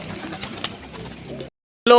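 Pigeons in a loft give a few soft, muffled coos. The sound cuts to silence near the end, then a short loud burst follows.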